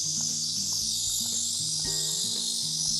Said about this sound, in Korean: 매미 소리가